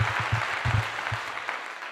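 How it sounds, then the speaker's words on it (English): A short burst of applause with scattered individual claps, fairly quiet and thin, fading out after a second or so. "Round of applause for the heathens."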